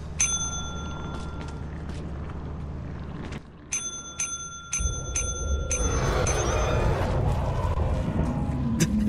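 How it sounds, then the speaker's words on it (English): Bell in the video game Lethal Company rung repeatedly, sharp bright dings struck in quick succession in two bursts, with a low rumble and noisy game sounds underneath. "You wanna ring the bell?"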